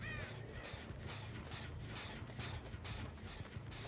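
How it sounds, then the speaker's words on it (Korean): Crows cawing in the Dead by Daylight video game, a few harsh calls repeating over a dense, steady game ambience with no voices. "여기 까마귀가 뜨긴 떴는데 잘 숨네요"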